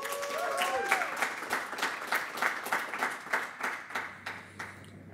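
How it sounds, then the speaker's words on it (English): Applause from a small audience at a poetry reading, with near and distant claps forming a steady patter that turns into slower rhythmic clapping before fading. "So a large hand of applause for Ahmad."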